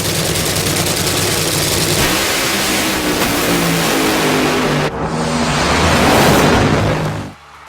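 Loud roaring engine sound accompanies a Hot Wheels funny car drag race between a blue Caddy and a red Firebird, revving continuously, rising and surging, then cutting off abruptly at the end.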